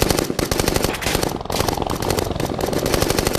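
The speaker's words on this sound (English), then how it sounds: "that's very much like a machine gun that we would hear here on Earth" Machine gun fire in rapid, continuous bursts, loud and close, with a brief break partway through.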